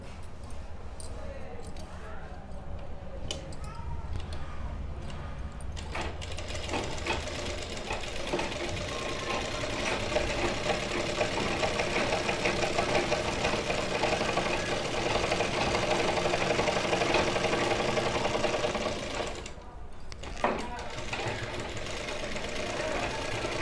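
Sewing machine stitching a seam on a kurti, a steady mechanical whir with rapid needle chatter running for most of the stretch, with short pauses early on and near the end.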